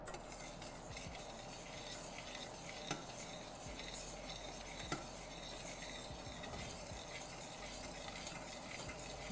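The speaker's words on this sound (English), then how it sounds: "I'm toasting the rice dry, but you can definitely add some sort of fat if you want." Dry rice toasting in a pan without fat, stirred steadily: a continuous soft, gritty scraping rustle with a faint sizzle and a couple of sharper clicks from the utensil, quiet and close, with no talking.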